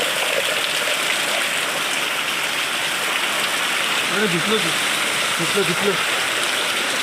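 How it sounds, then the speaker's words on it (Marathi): Heavy monsoon rain pours down in a steady, dense hiss that fills the whole stretch, with a brief voice speaking under it partway through. "पाऊस पण इतका खतरनाक आला आहे ना"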